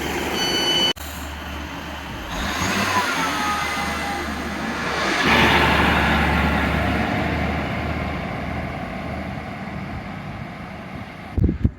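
Class 139 railcar pulling away from a small station, a low steady rumble that swells midway and then eases off, heard alone without talk.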